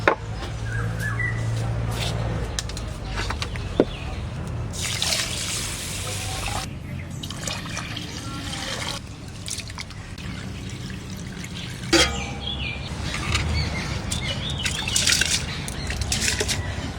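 Water pours and trickles into a cooking pot outdoors during heavy rain in several bursts separated by quieter gaps, with dripping and a steady rain-like hiss underneath.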